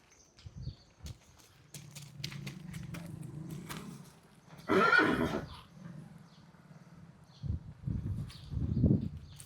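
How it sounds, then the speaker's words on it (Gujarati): A mare gives one loud, close whinny in the middle, with hoof clops and shuffling before it and a few low snorts after. "એને એમ થાય કે બીજો ઘોડો હે"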